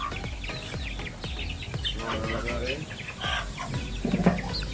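Native chickens cluck and chatter busily at feeding time, a dense nearby flock calling repeatedly, with a person talking over them.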